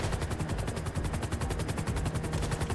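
Rapid automatic gunfire in GTA, a dense, evenly paced stream of loud shots continuing without pause, close and dominant with no voices over it.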